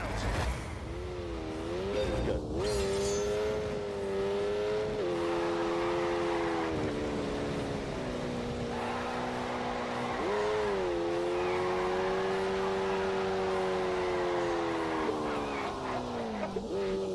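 A Lamborghini engine in The Grand Tour Game on PS4, revving and droning with a pitch that rises and falls through repeated gear changes, continuous and loud, mixed with tyre noise.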